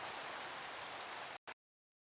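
Rain falling in the video game Minecraft, a dense, even hiss of downpour that holds steady and then cuts off abruptly, with one short burst after.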